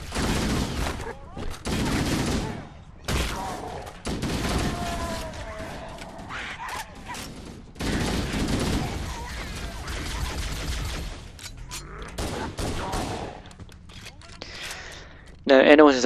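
Weapons fire in Halo CE Anniversary, including a pistol and an assault rifle, in bursts of sharp shots separated by short pauses. A player speaks between and over the volleys.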